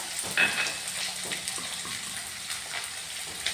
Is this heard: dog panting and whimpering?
no